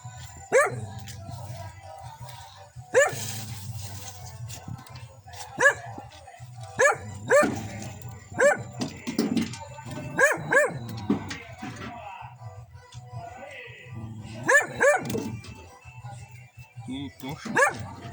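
A dog barks in sharp repeated bursts, some close and loud, others as yips, while people talk throughout during preparations for a Santo Antônio bonfire.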